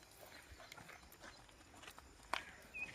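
A cow of an old pure native breed being led around a farmyard, faint hoof clops on the ground with some scuffing and a brief louder knock near the end, fairly distant and quiet.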